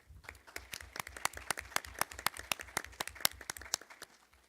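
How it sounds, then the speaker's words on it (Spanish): An audience at an arbitration book presentation applauds steadily, many hands clapping in a dense, crisp patter that fades slightly at the end. "la palabra al doctor Mario Castillo Freire, a quien pido un voto de aplausos."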